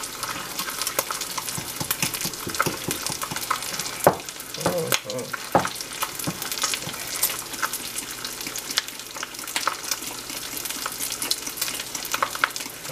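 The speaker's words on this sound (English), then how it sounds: "I'm frying another bacon because, I don't know, something about bacon." Bacon frying in a pan, a dense continuous sizzle with scattered crackles and a few clanks of a utensil stirring, no talking.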